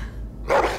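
A dog in The Walking Dead video game gives a single close, loud bark over a low background hum.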